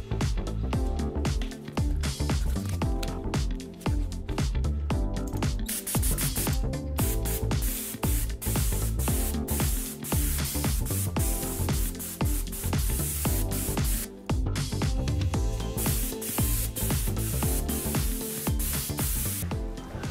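A continuous loud hiss of a spray gun spraying black base coat onto a carbon bicycle frame, steady and unbroken for the whole stretch, close to the listener.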